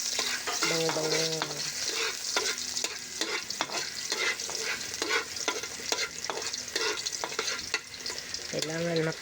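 Garlic sautéing in a hot wok for a Filipino chicken dish, a constant loud sizzle broken by frequent metal spatula scrapes and knocks, with a brief tonal clatter near the start and end.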